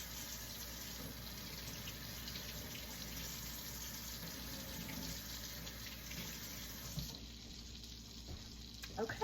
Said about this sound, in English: I'm gonna run it under the sink water